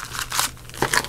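Foil wrappers of Pokémon Forbidden Light booster packs crinkle and rustle close up as the packs are shuffled, coming in uneven bursts of crackling with short quieter gaps between.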